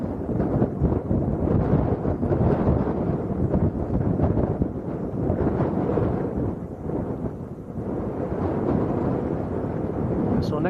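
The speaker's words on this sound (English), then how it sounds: "The wind's strong enough." Strong wind buffets the microphone at Lanzarote Arrecife Airport, producing loud, continuous low rumbling gusts that swell and ease over the whole stretch.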